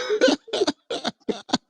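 About five short, voiced coughs come in quick succession, close and fairly loud, with brief pauses between them.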